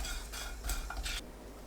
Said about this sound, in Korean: 달군 팬에 손질한 국물용 멸치 넣고 중불로 볶습니다.